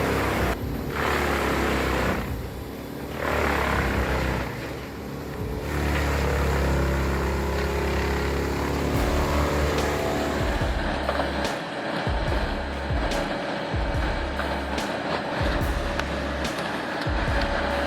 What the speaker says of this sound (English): The giant Comptech crusher started working, the engine roaring like a steel beast just awakened.